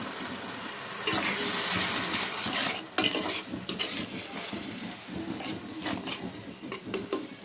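Turmeric and chili powder spice paste being stirred and fried in a pan with a little hot water, with steady scraping of a spoon against metal, clinks and a soft sizzle running continuously, up close.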